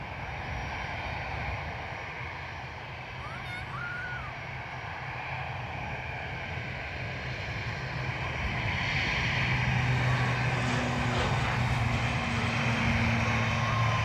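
An ATR turboprop airliner takes off at Dublin Airport, its steady engine drone holding broadly across the clip and swelling louder toward the end, with faint bird calls over the continuous noise.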